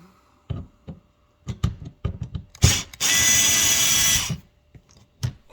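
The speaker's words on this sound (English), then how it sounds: "make sure you invest in one of those little power screwdrivers" Screws come out of a C8 Corvette's front splitter with a small power screwdriver and T15 bit: scattered clicks and knocks, then one sustained close whirring run of about a second, followed by a few more taps.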